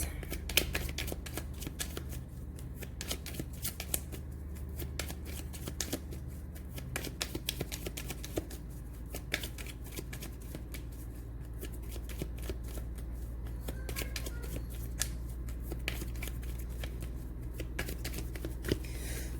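Tarot cards being shuffled by hand, a steady run of soft papery riffles and slaps that continues for the whole stretch at close range, with no talking.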